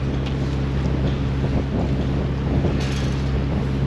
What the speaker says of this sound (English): Yeah, the wind's getting up.